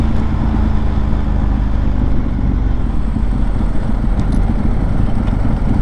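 Ducati 1098 superbike ridden at low speed, a dense continuous engine rumble heard close and loud without pause or speech.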